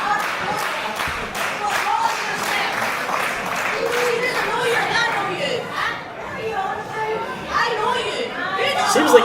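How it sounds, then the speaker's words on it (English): An excited crowd at a women's wrestling match fills the arena with steady chatter and scattered clapping, a continuous murmur with occasional louder bursts. "Crowd are excited for this one."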